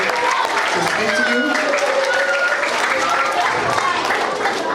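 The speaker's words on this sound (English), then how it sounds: "we give one last round of applause and appreciation to everybody up here" A school career day audience claps for the speakers, a loud, dense spread of applause mixed with crowd noise and overlapping chatter, steady throughout.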